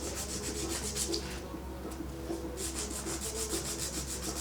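A file and buffer rasp back and forth across an acrylic nail in quick, rhythmic rubbing strokes, close and fairly soft, pausing briefly midway before resuming.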